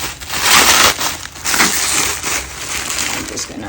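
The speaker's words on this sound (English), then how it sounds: "I'm just gonna unwrap it" Plastic packaging around an item bought on eBay crinkles and crushes as it is unwrapped, a loud, close, continuous rustling with uneven surges.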